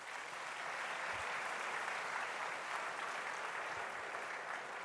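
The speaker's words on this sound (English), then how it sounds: "Shall we please applaud the amount?" An audience at a university inaugural lecture at KNUST applauds, a faint, steady wash of many hands clapping that continues evenly without voices.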